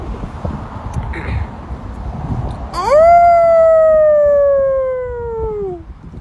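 A person imitates a wolf howl, a single loud, sustained voiced howl that rises sharply and then slowly falls over about three seconds, with quieter background noise before it.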